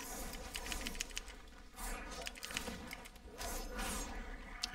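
Rapid typing on a computer keyboard, a busy, uneven clatter of keystrokes picked up at low level by a nearby microphone.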